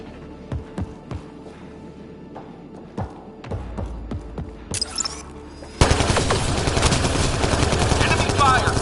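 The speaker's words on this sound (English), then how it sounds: "Enemy fire!" Mass Effect Andromeda combat: sharp gunshots from enemy forces crack singly at first, then a dense, loud barrage of sustained fire erupts and keeps going, with brief voice lines mixed in.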